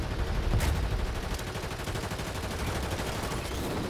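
Dense, continuous automatic gunfire in Call of Duty crackles on without pause, thick and busy, with faint sounds layered underneath.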